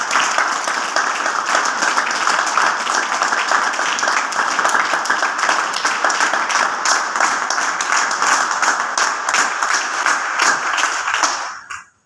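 Loud, sustained applause from a large audience at a business event, dense continuous clapping close and steady for about eleven seconds before cutting off abruptly.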